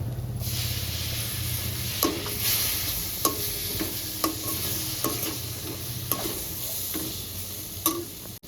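Three chopped medium tomatoes sizzling in a mutton liver curry while being stirred, with a steady low frying hiss broken by regular clicks and taps of the spoon against the pan.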